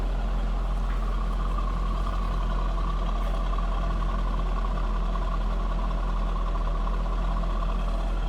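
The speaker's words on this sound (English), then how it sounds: "Nice exhaust note, sounds good, as it should." A 2003 Chevrolet Corvette 50th Anniversary Convertible with a 5.7 liter LS1 V8 runs steadily, giving a constant low, droning exhaust rumble close by with no change in revs and no voices.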